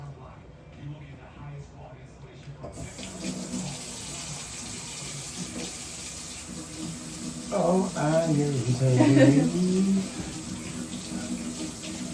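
Water runs steadily from a faucet throughout, with a person speaking briefly over the flow partway through.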